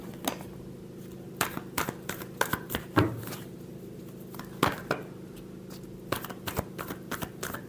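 Tarot cards are shuffled close by in a burst of quick riffling snaps and taps, scattered in short clusters over a faint steady hum, with no talk.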